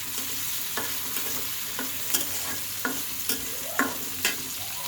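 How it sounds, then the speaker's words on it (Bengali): Onion, garlic and chili fry in soybean oil with a steady soft sizzle, while a utensil stirs and scrapes the pan in sharp intermittent clinks and taps, close by and fairly quiet. "মরিচ খুবই সুন্দর করে ভেজে নেব।"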